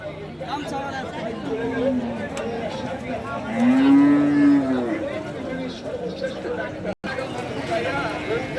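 Bulls low at a busy cattle market, with one long, clear moo standing out over a shorter call, while a crowd chatters and people talk throughout.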